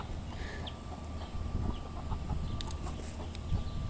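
Backyard chickens and a rooster cluck softly at medium distance, with scattered short calls and chirps over a low rumbling outdoor background with no talking.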